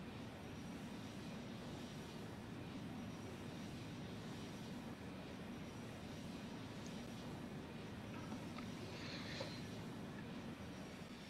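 Engines of an Antonov An-124 cargo plane at increased throttle in the Roblox game Aeronautica, a steady, low, droning jet roar that holds evenly, fairly quiet and unbroken throughout.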